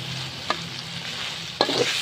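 Holy basil leaves stir-fried in a pan with century egg: a steady sizzle runs throughout, with two sharp scraping stirs of a spatula against the pan, no talking.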